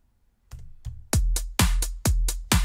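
Keyboard-played audio runs through Logic Pro's Mic Drop MIDI-controlled effect, giving a series of loud, punchy processed hits that start sparse and quiet, then repeat in a fast, heavy rhythm with booming low thumps and bright attacks.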